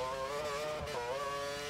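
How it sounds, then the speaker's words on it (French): Racing car engine in the F1 2013 video game that has started making an odd whistling noise, a loud sustained high-revving drone with wavering tonal pitch, steady throughout, with no voices. "C'est un bruit bizarre, ma voiture."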